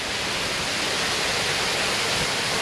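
A waterfall in a wooded valley roars as a steady, dense rush of falling water, loud and unbroken throughout with no voices.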